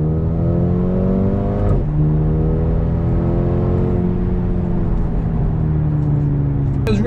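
A Mercedes-Benz A35 AMG engine revs up steadily under load in second gear toward 4,000 RPM with rising pitch, drops briefly as the gear shifts, then climbs again, close and loud.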